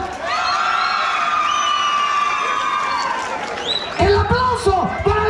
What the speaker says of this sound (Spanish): El aplauso para la gordita.